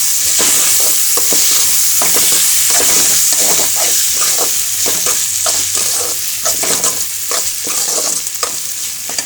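Tomatoes frying in oil in a pan, cooked down until the oil separates, heard as a loud, steady sizzle broken by repeated scraping stirs at an irregular rhythm.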